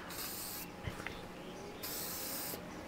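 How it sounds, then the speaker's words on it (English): Cleaner sprayed onto the exterior of an RV in two close, loud hissing bursts, separated by a pause with light handling noises. "So I'm gonna just spray it on here first"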